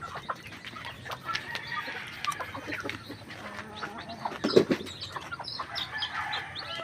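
Chickens and small chicks cluck and peep close by in a rural yard, with scattered calls and a brief flutter of wings.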